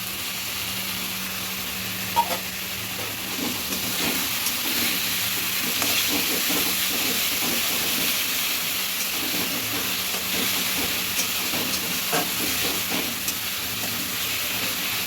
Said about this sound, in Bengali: ভালো করে একটু একটু ভেজে নেব